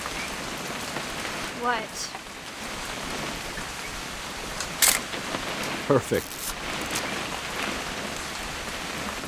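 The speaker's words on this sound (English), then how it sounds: "It's gonna rain the whole weekend, isn't it?" Steady rain falls throughout a scene in the video game What Remains of Edith Finch, a constant hiss with a few brief voices and small clicks over it.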